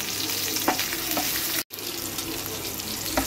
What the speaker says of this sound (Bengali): কালো জিরে আর কাঁচা লঙ্কাটাকে একটুখানি হালকা ভেজে নেব।